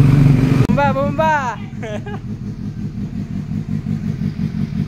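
A Suzuki GSX-S 750 motorcycle engine idles with a rapid, steady rumble close by, after a sharp click and a brief rise, while people talk loudly over it.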